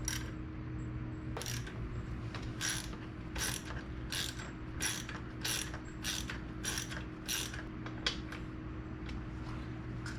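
A torque wrench clicks through a series of ratchet strokes while tightening the front wheel of a BMW K1600 motorcycle, with about a dozen crisp, close metallic clicks at an uneven rhythm over a low steady background hum.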